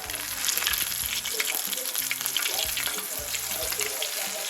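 Food drops into hot oil and fries in a kamado grill setting, a loud, continuous crackling sizzle throughout, with low background music tones beneath.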